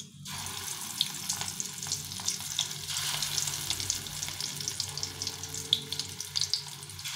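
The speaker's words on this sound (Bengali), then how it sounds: "এখন আমি বাকিটাও ভেজে নেবো এভাবে করে।" Fish oil fritters sizzle in a small amount of hot oil, a continuous crackling hiss with sharper pops and spatters scattered throughout, close and fairly quiet, with no talking.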